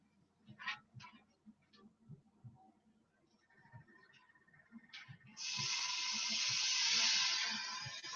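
Shrimp hit a hot pan with butter and burst into a loud, steady sizzle that sustains after a few clicks and taps of handling.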